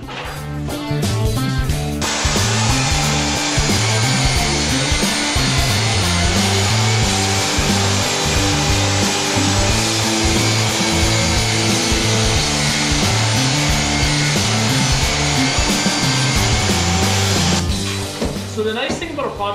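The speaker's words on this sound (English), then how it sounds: "we're going to rip down a bunch of this MDF to 1-inch pieces" A saw rips MDF sheet down into 1-inch strips for an interior door makeover, a loud, steady cutting drone with a low motor hum that runs unbroken for about fifteen seconds before winding down.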